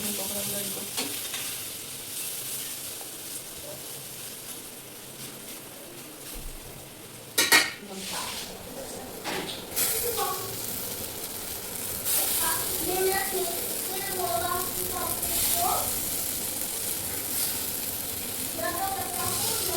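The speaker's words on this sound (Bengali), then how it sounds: "দেখো আমি এখন পকোড়াগুলো করছি।" Pakoras frying in a pan in a home kitchen, a steady sizzle running throughout with occasional stirring and clinks of utensils against the pan, plus a sharp clatter midway; a voice talks faintly in the background.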